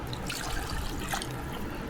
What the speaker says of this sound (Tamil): தண்ணி வைக்கலாம், அதுக்கு மேலே தண்ணி வச்சா வெளியில் வந்துடும்